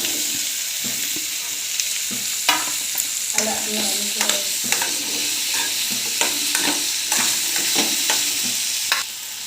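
Carrot and potato pieces fry in a pan with a continuous close sizzle, broken by repeated clinks and scrapes of a spatula stirring through the vegetables.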